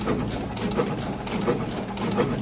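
A filter rolling machine runs with a steady mechanical whir and a quick, regular clattering pulse, close and continuous throughout.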